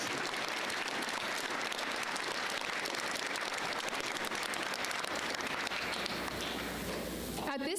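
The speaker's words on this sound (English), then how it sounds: "Please give our student body officers a round of applause." Steady audience applause fills a school Veteran's Day assembly hall, a dense, even clapping from a large crowd of students that carries on throughout and breaks off abruptly at the very end.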